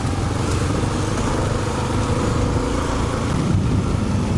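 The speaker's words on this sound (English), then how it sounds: "I wasn't sure how it was going to handle the vibrations of the big single on the KLR 650" Kawasaki KLR 650 big single-cylinder motorcycle engine running steadily while riding off-road, a loud continuous thrumming drone with rough vibration throughout, no pauses.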